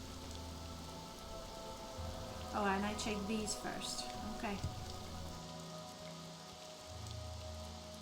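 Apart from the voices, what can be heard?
rain falling in the video game Morrowind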